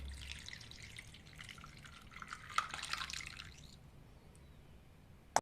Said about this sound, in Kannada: ಈಗ ಎಲ್ಲವನ್ನು ಸೇರಿಸಿ ಸೋಸಾ ಬಟ್ಲಲ್ಲಿ ಸೋಸೋಣ